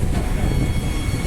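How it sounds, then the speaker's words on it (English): A Transperth Midland line train pulls away from a platform at Perth station, giving a loud, steady rumble of rolling wagons and wheels close by, with no talking. "we'll just watch that Midland one leave"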